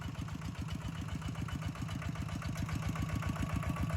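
Tractor engine idling in a rice paddy during a rice-planting contest, a steady close chugging pulse with rapid regular low firing beats and no talk over it.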